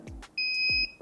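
A heat press gives one steady electronic beep lasting about half a second, clear and fairly close, with a few soft knocks around it.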